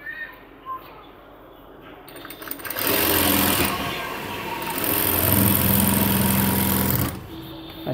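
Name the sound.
sewing machine stitching cargo half pants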